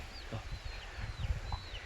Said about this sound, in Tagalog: May magandang manok.